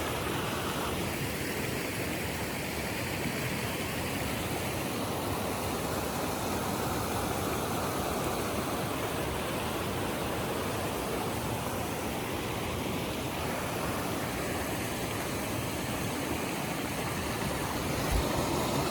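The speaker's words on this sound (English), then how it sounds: "I don't know if y'all are going to be able to hear me because of the water" Steady rushing water fills the whole stretch, a dense continuous wash of a fast creek in metro Atlanta flowing close by, with no other sounds standing out.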